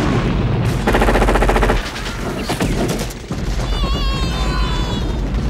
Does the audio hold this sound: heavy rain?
no